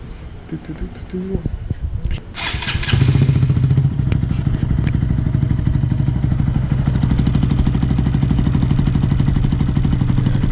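A Honda Grom 125 motorcycle with an aftermarket exhaust and a slight exhaust leak starts up and settles into a loud, throaty, uneven idle with a steady rapid pulse, up close.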